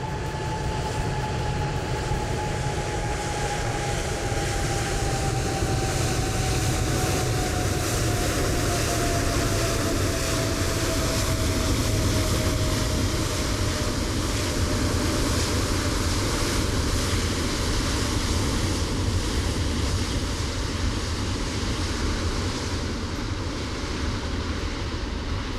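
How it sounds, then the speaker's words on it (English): Boeing 737-800 in PMDG livery departing Sydney in Microsoft Flight Simulator 2020, a loud continuous jet engine roar with a slowly falling whine, steady and broadband throughout as the aircraft takes off. "Pretty noisy aircraft."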